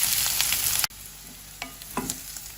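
Vegetables for a Kerala-style vegetable stew sauté in a pan, a steady close sizzle that cuts off abruptly, followed by quieter frying with a few soft stirring scrapes and clicks.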